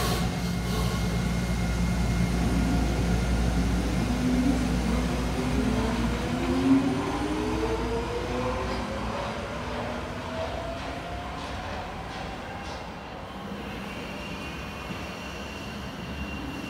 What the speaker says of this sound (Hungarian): Viszont érkezik a szürke metró, a kilincses ajtós.